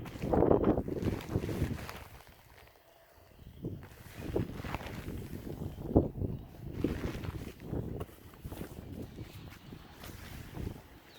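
Gusty wind blows outdoors during the teardown of a Stansport Scout two-person backpacking tent, buffeting the microphone in uneven rushes and dull thumps that rise and fall throughout, with faint rustling underneath.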